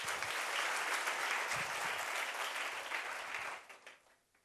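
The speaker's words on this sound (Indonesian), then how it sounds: "Tepuk tangan dong." A church congregation breaks into sustained applause, dense and steady clapping that fills the room, then thins and fades toward the end.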